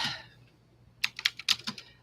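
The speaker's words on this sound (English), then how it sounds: "I'm typing, I'm putting it in." Bursts of clattery typing on a computer keyboard, a quick uneven run of keystrokes in the second half after a brief voice at the start.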